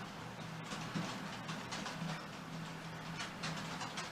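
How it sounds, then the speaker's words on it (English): Hornby Class 56 model locomotive hauling a special train around a model railway layout, giving a steady, fairly quiet running rumble with faint rhythmic clicks of wheels over rail joints, no talking. "Also running round on a special train is the DCR Class 56 Hornby one"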